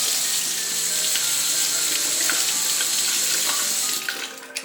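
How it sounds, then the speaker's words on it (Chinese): Green peppers are washed under a running kitchen tap, making a loud, continuous splashing stream that breaks into a few drips and handling sounds as the water stops. "先把青椒洗干净"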